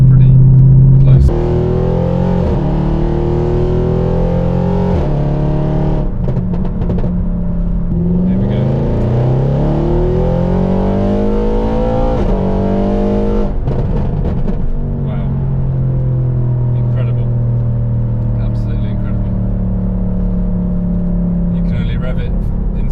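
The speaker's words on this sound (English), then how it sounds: "Rev it in second and third gear" A stage 2 tuned Audi RS6 revs and accelerates hard through the gears, the engine note rising and sweeping in long climbs with shifts between pulls, loud and close inside the car while someone talks over it.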